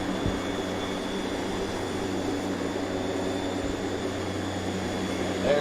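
A steady, continuous roar of an airplane coming in to land, with a constant broadband engine and airflow rush and a low hum. The noise holds evenly throughout, with no voices.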